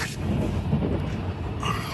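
Kalighat Express passenger train running on rails on the day of Kali Puja, a steady loud rumble of wheels and carriage heard from inside the train, with no talking.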